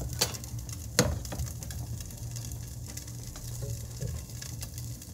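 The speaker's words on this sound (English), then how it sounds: "You can hear it sizzling now." Beef sears in hot oil in a pan on a stove for a beef stew, a soft steady sizzle and patter with a few close clicks of the pan.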